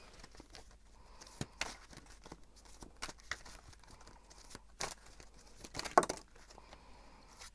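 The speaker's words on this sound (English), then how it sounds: "I'm gonna shuffle a little bit more" Tarot cards shuffled by hand during a reading, soft papery riffles and taps coming in quiet bursts, close and faint, with no voice over them.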